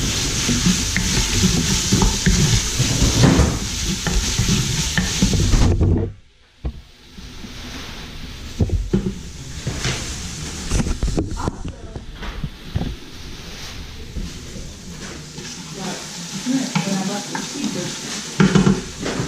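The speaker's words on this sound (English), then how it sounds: "I saute that for another minute." Southern style greens sauté in a pan, a steady sizzle with stirring and the clink of a utensil against cookware, briefly dropping off before resuming more quietly under occasional talk.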